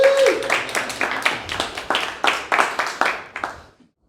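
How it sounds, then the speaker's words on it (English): A seminar audience gives a short round of applause for the speaker: a small group claps in a quick, close burst that tapers and fades out after a few seconds. "Little round of applause for me"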